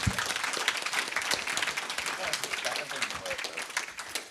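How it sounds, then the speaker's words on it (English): Audience applause at a church gathering, a dense sustained clapping that fills the moment at steady loudness, with voices mixed in. "I think like actually something like that deserves just a bit of a round of applause"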